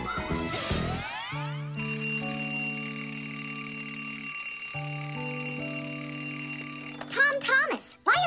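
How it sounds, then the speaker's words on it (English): A cartoon alarm clock rings at night in sustained electronic tones that shift in pitch, then a voice comes in briefly at the end. "why is your alarm clock ringing in the middle of the night"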